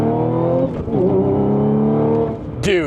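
Supercharged Audi S5 B8.5 with a small pulley upgrade and new injectors, accelerating hard with a loud, rising supercharger whine and engine roar throughout, climbing in pitch near the end; someone speaks briefly over it.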